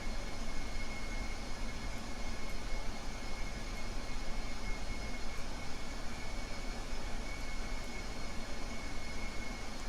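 A spaceplane engine in Kerbal Space Program rumbles in a steady, even roar while taxiing, a constant broadband drone with no pauses.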